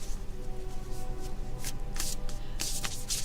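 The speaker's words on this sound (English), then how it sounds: "I like how shuffling this deck sounds." Cards are shuffled in quick riffling bursts, crisp rustles recurring over a faint steady background hum.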